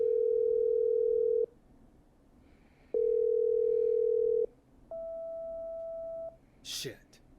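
Phone line tones while a call is patched through in the game Killer Frequency: two long, loud steady ringback beeps separated by pauses, then a softer higher tone, ending in a short burst of noise.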